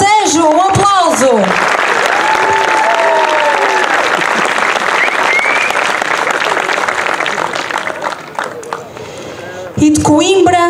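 Loud, sustained crowd applause for a Ribatejo folk dance group at an ethnographic gala, with an announcer talking over the start and end as the clapping swells and then tapers.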